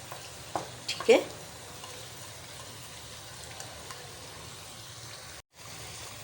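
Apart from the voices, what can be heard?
onions added to frying mutton with ginger and garlic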